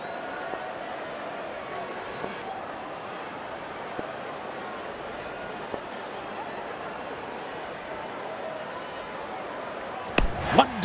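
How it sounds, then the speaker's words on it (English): In the Real Cricket video game, a sharp, loud bat-on-ball knock lands near the end, over a steady wash of stadium crowd noise. "Wonderful sound of the bat"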